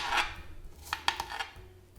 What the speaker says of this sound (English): Cut up an apple.